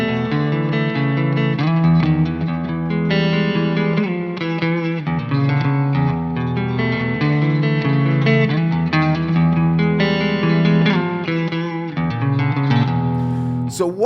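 Heavy, dark progressive metal guitar music shifts through sustained chords at a steady moderate pace, loud and dense throughout with no voice over it.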